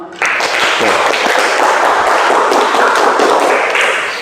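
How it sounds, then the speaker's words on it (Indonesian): Classroom applause in an Indonesian civics teaching-practice session, a short burst of many hands clapping together that starts abruptly and holds steady, fairly loud and close, with a few voices mixed in before it fades at the end. "tepuk tangan buat kita semua"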